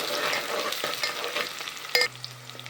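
Prepared masala is stirred into cooked onions in a pan for a prawn biryani with green chillies, giving a steady frying sizzle with scraping spoon strokes. A sharp clank comes near the end, then a low steady hum.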